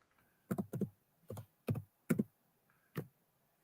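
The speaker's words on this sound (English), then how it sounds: "I was typing weenus in chat." Keys on a computer keyboard clack in separate bursts of one or two strokes, close and distinct against near silence, with uneven pauses between them.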